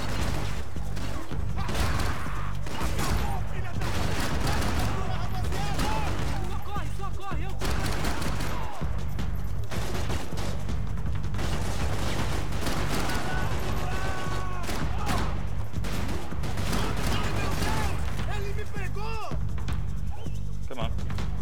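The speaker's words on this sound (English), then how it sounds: "Got to shoot some sweet Molotovs." Continuous heavy gunfire and crashing impacts in the video game Max Payne 3, with loud rapid shots and bursts throughout, someone talking over the chaotic action.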